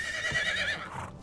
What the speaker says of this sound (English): Whistle for the horse by accident.